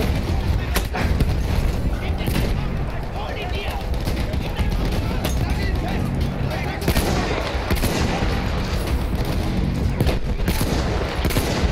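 Battlefield 1 gunfire in a campaign mission: rapid bursts of shots and booming blasts crowd the whole stretch, loud and dense, and a voice talks over the fighting.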